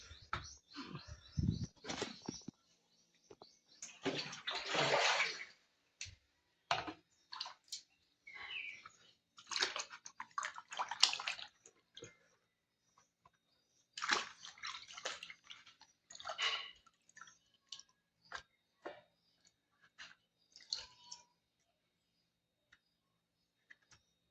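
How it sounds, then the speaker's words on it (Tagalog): Running water splashes intermittently onto a pan being washed, loud bursts of spray and drips broken by quiet gaps, close by. "So, hugasan sa nato ang atong pan."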